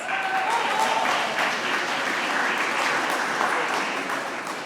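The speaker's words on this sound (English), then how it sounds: "Give yourselves a big applause." A large reception audience at the Hobart Lord Mayor's event claps steadily, a dense, even wash of applause that holds loud throughout and eases slightly at the end.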